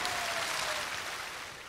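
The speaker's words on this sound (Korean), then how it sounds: "다음 분에게도 박수 주시기 바랍니다." Audience at a televised Korean singing contest gives a short burst of even, continuous applause that fades slightly at the end.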